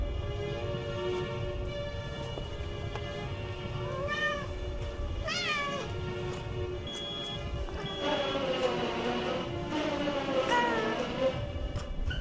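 A cat meows several times, the rising and falling cries coming in short bursts over a steady background hum.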